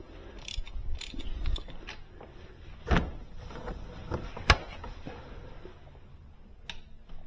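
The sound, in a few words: ratchet with 19 mm 3/8 drive socket tightening car ECT sensor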